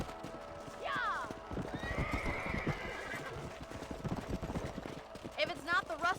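A horse gallops and neighs in the Red Dead Redemption video game, with steady rhythmic hoof clip-clops, two high whinnies near the start and end, and talk over the sound.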